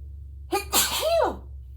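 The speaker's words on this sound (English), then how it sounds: "I think I'm going to sneeze in a minute." A single close, fairly quiet sneeze indoors beside an ironing board during quilt pressing, a short sharp intake followed by a breathy burst, over a steady low hum.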